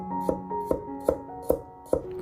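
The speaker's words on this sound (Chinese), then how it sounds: "大蒜全部切好之后，装入碗中备用" A knife chops garlic cloves on a cutting board, six crisp, evenly spaced thuds close up, with a faint ringing hum underneath.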